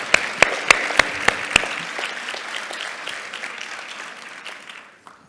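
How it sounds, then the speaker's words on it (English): An audience at a financial literacy education event applauding to welcome a guest, opening with a few sharp separate claps before swelling into steady clapping that fades out near the end. "Round of applause."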